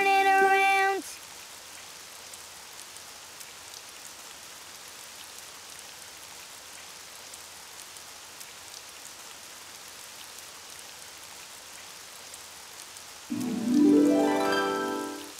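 Steady rain falls outside as an even, soft hiss that goes on for several seconds. Brief tonal music sounds at the start and end.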